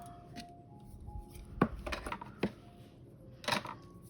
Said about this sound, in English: So now we're going to cut that off.